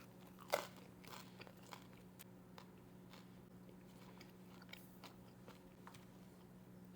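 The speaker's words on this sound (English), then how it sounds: "Crust is nice and crunchy on the outside." A crunchy-crusted homemade bread is bitten and chewed up close, with a sharp crunch near the start followed by quieter intermittent crunching and chewing over a faint steady background hum.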